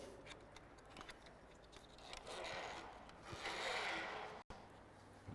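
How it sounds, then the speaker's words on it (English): Steel cable slides and rasps through the plastic cable guides and the center wheel of a pickleball net beam, a steady close scraping that swells twice before a brief dropout. "Threading it through the middle of the center wheel"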